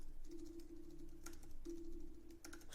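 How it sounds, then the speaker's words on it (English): Computer keyboard typing, a steady patter of light key clicks in short bursts with brief pauses, close and fairly quiet over a faint steady hum, with no talking. "Sorry about my typing."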